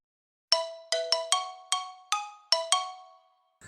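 A late-night phone rings again: a chiming melodic ringtone of evenly spaced bell-like notes, clear and close, playing alone without any voices.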